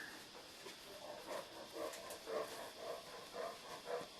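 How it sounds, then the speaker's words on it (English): A dog whimpers and pants quietly indoors during a crochet session, soft rhythmic breathy bursts repeating about twice a second, faint and close, with no talking. "That's the dog, by the way."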